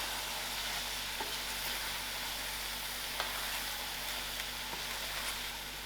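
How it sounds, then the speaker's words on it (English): Tomatoes fry in a pan while being stirred, a steady soft sizzle with faint scraping clicks from the spoon recurring every second or so. "Also stir this till the tomato release its gravies."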